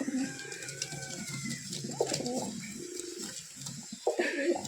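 Pigeons coo close by in the morning, a series of soft, low, throaty rolling calls repeating one after another through the whole stretch.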